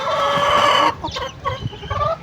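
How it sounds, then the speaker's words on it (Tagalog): A chicken gives a long, loud call, followed by a few short, close clucks from hens. "yan ang inahin nila"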